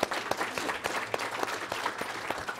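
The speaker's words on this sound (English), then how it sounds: "Applause for yourself for being part of the solution" Scattered clapping from a keynote audience, individual claps distinct and uneven rather than a dense roar, fairly quiet and brief.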